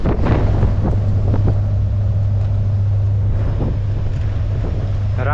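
Strong wind buffets across an open car ferry deck, a constant heavy rumble with a steady low engine hum beneath and occasional gusty surges.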